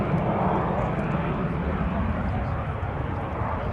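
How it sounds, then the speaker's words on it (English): A Sea Vixen jet roars past in a steady, dense engine rumble that holds at a constant level throughout, fairly loud and close with no clear rise or fade. "The wonderful Sea Vixen. What a fabulous aircraft."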